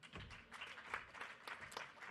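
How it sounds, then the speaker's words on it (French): A conference audience applauds a guest speaker with a brief burst of scattered clapping, fairly quiet and distant, lasting about two seconds. "Merci de l'applaudir."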